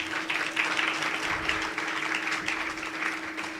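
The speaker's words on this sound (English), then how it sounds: "Round of applause." Steady applause from an audience at a faculty awards ceremony, a continuous wash of many hands clapping at moderate volume without any voices over it.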